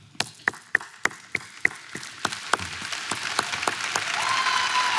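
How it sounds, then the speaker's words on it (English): A crowd claps, starting with distinct sharp individual claps that quickly swell into dense, steady applause filling the room. "you all gave them a clap."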